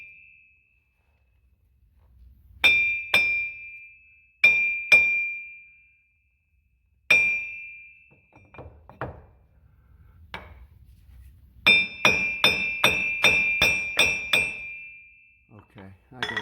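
A steel hammer clangs against a Ford F150 wheel hub bearing in a quiet garage, ringing metallic strikes heard as isolated single and paired blows before a rapid burst of about eight hits, with faint background noise between.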